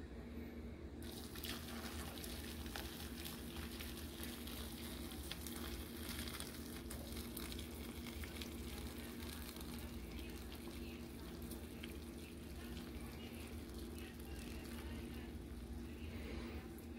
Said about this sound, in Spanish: El agua hirviendo, hirviendo.